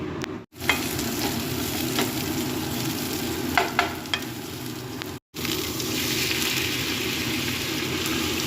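Pumpkin slices fry in hot oil in a pan, a dense, continuous sizzle heard up close for several seconds, broken by two brief cuts and a few spattering pops.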